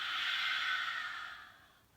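A long, steady breath out during a yoga twist, close and airy, holding level and then fading gently away over about two seconds, alone with no talking.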